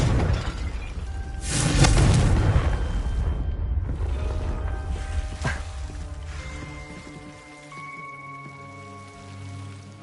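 A Confringo explosive spell cast in Hogwarts Legacy, a loud booming blast followed by a rumbling, crackling roar that gradually settles into a quieter ringing tail.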